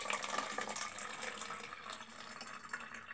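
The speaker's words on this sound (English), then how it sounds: "So I'm going to put a lot more water into this one." Water pours into a plastic bottle in one continuous gurgling stream, fairly faint and close, with no voices over it.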